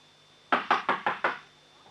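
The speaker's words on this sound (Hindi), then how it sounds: "लो बस अब रात भर खटखटाए जाओ।" Five quick, evenly spaced knocks on a door ring out close and firm in a radio play, followed by quiet.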